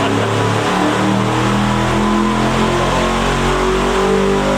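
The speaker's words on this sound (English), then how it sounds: "Another SHAFIROFF motor being dynoed." A powerful Shafiroff race engine roars steadily at high revs on a dyno, loud and continuous, with a rough mechanical drone and no voices.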